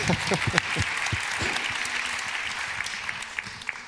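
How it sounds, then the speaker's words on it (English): A festival audience at a live talk applauds steadily, a dense wash of clapping that holds for a few seconds and slowly thins toward the end. "We need time to clap."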